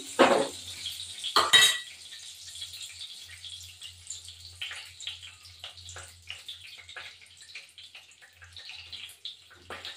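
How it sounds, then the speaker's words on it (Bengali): Potatoes being fried and stirred in ghee with a little sugar in a pan while cooking minced meat ghugni: sharp metallic scrapes and clatters of a spoon against the pan at the start, then softer stirring scrapes over a faint, steady hiss. "এবার আলুটা ভাজবো এর মধ্যে।"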